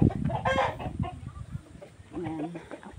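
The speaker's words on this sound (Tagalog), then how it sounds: "Mga manok din yan, oh." Chickens clucking and a rooster crowing on a highland farm, close by, in short irregular bursts over a noisy outdoor background.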